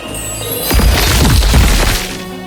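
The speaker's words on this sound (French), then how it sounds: "L'explosion dingue!" A magic cauldron explodes with a loud, sudden booming crash that carries a shattering edge, swelling and then fading out over about two seconds.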